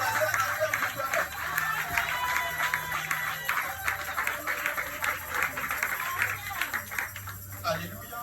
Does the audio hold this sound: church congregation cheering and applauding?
yes